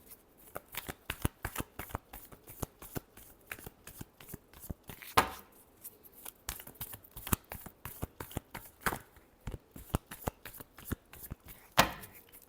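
Tarot cards are shuffled by hand close up, a long run of quick crisp flicks and riffles in uneven bursts, with a few louder snaps as the deck is squared.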